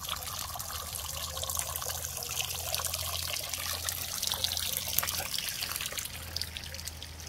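Water runs out of a water tank at Jyolikot near Nainital, a soft, continuous trickle and splash like a small stream, fairly faint and steady, with a low hum and scattered background noises.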